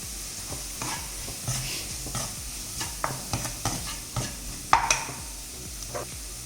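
Chili powder and pepper powder get stirred into sizzling egg chilly in a pan, with steady frying hiss under repeated scraping stirs and a few sharper utensil clinks near the end.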